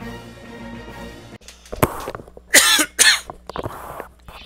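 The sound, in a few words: person coughing in background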